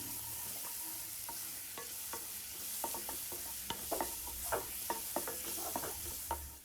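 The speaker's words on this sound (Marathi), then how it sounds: "आता ही पानं ना अशी ढवळून घ्यायची" Taro leaves being stirred into hot spiced oil in a frying pan, with a spoon scraping and clacking in irregular taps over a steady low sizzle, close and alone.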